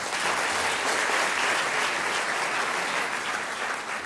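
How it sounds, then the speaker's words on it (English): Sustained audience applause fills a concert hall at a hospice charity evening, steady and dense with many hands clapping at close range, no voices over it. "Another round of applause, ladies and gentlemen."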